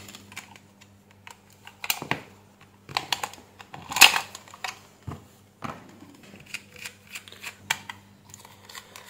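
A plastic AC remote control casing gets pried open by hand, with a string of sharp close clicks, snaps and scrapes as the parts separate, plus one louder crack midway.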